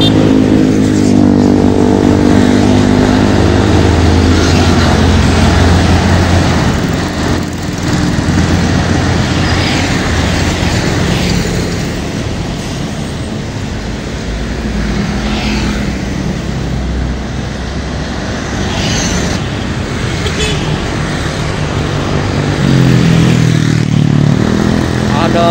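A heavy Mitsubishi box truck engine drones and labors continuously under strain climbing a steep hill, loud and close, with someone talking over it throughout.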